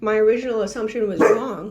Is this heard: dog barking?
yes